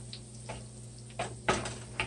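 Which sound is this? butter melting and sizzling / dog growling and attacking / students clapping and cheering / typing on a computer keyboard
butter melting and sizzling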